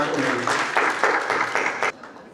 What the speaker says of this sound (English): Give a round of applause to Sri